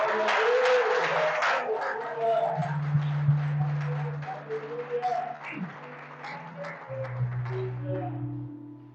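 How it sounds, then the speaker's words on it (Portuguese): A church congregation claps during an Easter Sunday family service, a dense burst of applause that thins out over several seconds while low sustained organ or keyboard tones and murmuring voices carry underneath. "Aplauda o Senhor Jesus."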